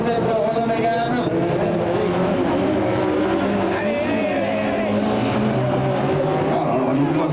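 A Chevelle and a Renault Mégane race on a circuit during a touring cup event, with loud, steady engine roar from both cars and a commentator talking over the noise throughout.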